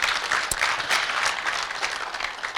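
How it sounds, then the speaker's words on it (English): Sustained applause from an audience at an award dinner at a business school, a dense steady wash of many hands clapping at moderate loudness, with no talk over it. "Let's give them a big round of applause."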